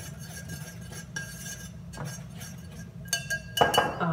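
A whisk stirs banana bread batter in a bowl, producing light clinks and taps against the bowl that grow busier and louder toward the end, close and without talk.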